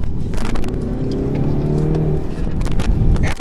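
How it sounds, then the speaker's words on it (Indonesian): A 2017 MINI Countryman S engine revs hard on the throttle, a steady loud drone rising and holding for about two seconds before easing, heard close up from inside the car. "Kita gas gini ya."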